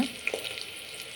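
Onion, green chilli and curry leaves sautéing in a pan for tamarind curry, a brief soft steady sizzle with faint crackles, close and quiet.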